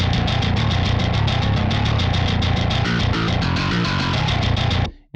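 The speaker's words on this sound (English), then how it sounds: "So here I run the DI through this free plugin, actually, an emulation of a SansAmp." A bass DI run through a SansAmp emulation plugin plays a chugging, heavily distorted riff with fast, even palm-muted rhythm, loud and dense, then cuts off abruptly near the end.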